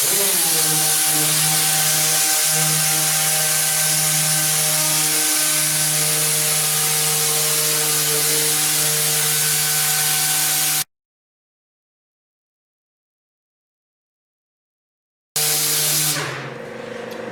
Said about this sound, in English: Anyway, 1000 grit. I'm going to start just working in on this.